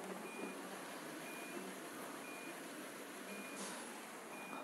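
Reversing beeps from a truck in a truck parking game, an evenly spaced series of short high electronic tones about once a second, loud and steady over a constant engine rumble.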